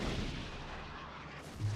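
Guns of the Minekaze destroyer fire in World of Warships, a dense, roaring broadband blast that fills the whole moment with a heavy rumble and swells again at the end.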